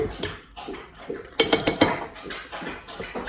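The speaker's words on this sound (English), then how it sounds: "So I'll just give it a bit of a stir." Sourdough starter stirred in a bowl after water and flour are added, with light clinks and scrapes of utensil against the container and a quick cluster of sharper knocks partway through.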